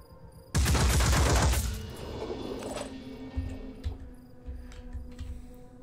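Loud burst of gunfire in the Phoenix Point video game, a dense volley lasting about a second, followed by a decaying mechanical rumble and a few lower thuds.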